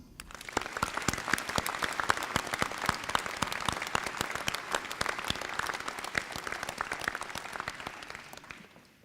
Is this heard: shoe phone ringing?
no